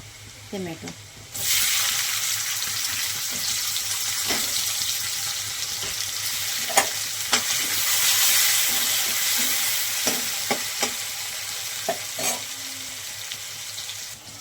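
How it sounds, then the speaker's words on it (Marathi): Chopped onion sizzles and fries in a pan for a village-style green chilli and gram flour dish, a steady loud hiss with scattered clicks of stirring throughout, no talking over it. "कांदा लाल झाला"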